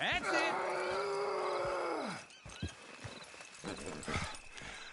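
Horse hooves in Red Dead Redemption 2 clop at a slow, uneven pace beneath a long rumbling growl and game ambience, with a voice speaking over it.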